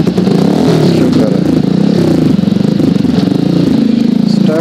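A motorcycle engine that has just started after refuelling idles loudly and close by in a steady, chugging rumble, with a faint rattle over the pulse.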